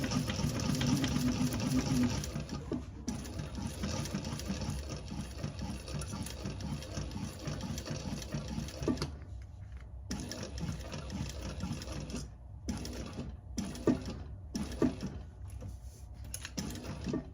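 A sewing machine stitches fabric steadily around curves, a close, continuous motor whir with a fast rhythmic needle chatter that runs unbroken at first, then stops and restarts in short bursts near the end.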